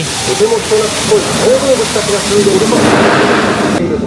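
A waterfall on a Tokyo Disneyland boat ride pours with a loud, steady rushing roar while someone speaks excitedly over it.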